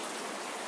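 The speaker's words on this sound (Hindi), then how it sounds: "बारिश बहुत तेज़ हो रहा है" Heavy rain pours in a dense, steady hiss of countless drops striking surfaces, loud and unbroken for the brief moment.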